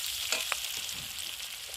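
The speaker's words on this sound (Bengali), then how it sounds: "পেঁয়াজ লঙ্কাটা ভাজা হয়ে গেছে" Onion and green chili frying in a wok, a steady hiss of hot oil with a couple of brief utensil clicks, close and fairly quiet, no voices.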